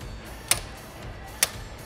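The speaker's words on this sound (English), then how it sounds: "A little slide hammer action." Two sharp metallic clacks about a second apart, a slide hammer striking its stop while pulling motorcycle handlebar inserts, against a quiet background.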